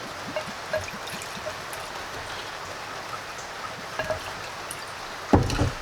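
Homemade scotch-style whisky poured into a bottle, a steady close trickle of liquid running continuously, with small drips and a brief louder splash near the end.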